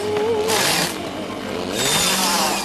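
A chainsaw runs close and loud while cutting thin strips of wood, its engine whining and rising in pitch as it bites into the wood in two long surges.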